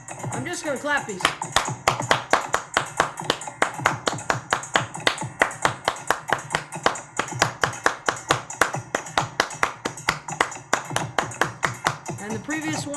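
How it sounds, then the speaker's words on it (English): Hands clap a fast, steady world-music rhythm pattern, sharp regular claps close and loud, with a voice counting along at points. "I'm just going to clap these."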